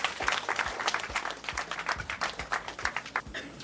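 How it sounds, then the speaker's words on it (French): Applause at a 2017 PADEV coronation gala as an award is presented: a sparse, uneven patter of hand claps from a modest audience, steady through the moment, with a faint voice or two underneath. "Ça s'applaudit."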